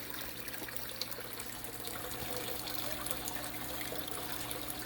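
Water trickles steadily into a waterfall aquarium tank freshly planted with yard plants such as daylilies, a soft continuous splashing at close range with no voices.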